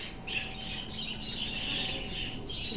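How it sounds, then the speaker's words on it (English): A flock of small birds chirps and twitters continuously at moderate distance, many high tweets overlapping over steady outdoor background noise. "Those are some birds."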